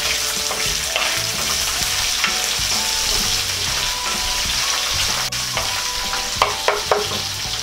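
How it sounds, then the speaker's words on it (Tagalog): Onions sauté in a pan for a chicken hamonado, a busy crackling fry with a spatula scraping and stirring, plus a few sharp clinks near the end. "Ngayon ay uumpisahan na po nating igisa itong ating sibuyas"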